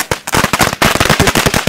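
A string of firecrackers bursts during Diwali in a rapid, loud run of sharp cracks, close by, with a brief gap before the popping resumes.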